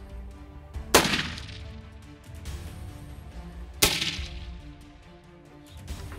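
Two loud, sharp rifle blasts from a .416 Rigby firing soft-nose rounds while hunting in South Africa, about three seconds apart, each with a brief ringing decay, under quiet outdoor background.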